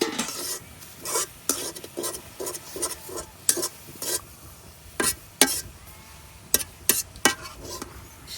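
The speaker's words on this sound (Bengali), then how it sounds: "পাট শাক গুলা কড়াই দিয়ে দিছি, উপরে দিয়ে দিলাম অল্প একটু লবণ।" Jute leaves cooking in a wok with a little salt are stirred with a utensil: repeated sharp scrapes and clatters in an uneven rhythm over a soft, steady sizzle, close and clear, with no voices.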